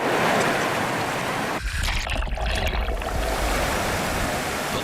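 Creek water flows steadily nearby, a continuous rushing hiss with a brief dip and rumbling change midway before it carries on evenly.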